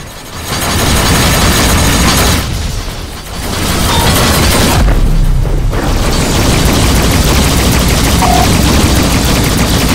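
Missile explosions and gunfire in the space combat game Rebel Galaxy Outlaw: a loud, dense barrage of booms and rapid shots rolls on almost continuously, dipping briefly twice before surging back.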